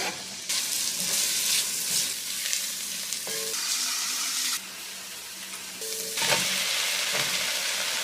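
Celery, garlic and onion sizzle and fry steadily in a pan for a home-made mushroom soup, with stirring scrapes and a brief burst of running tap water partway through.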